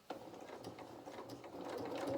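A sewing machine stitches the fabric body of a soft otter toy, a faint, close, ticking run of needle strokes that starts slowly and steadily picks up pace.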